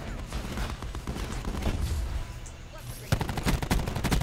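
Gunfire in a Call of Duty match on the Nuketown map, dense overlapping shots under a steady rumble, with a sharper, louder burst of rapid fire near the end.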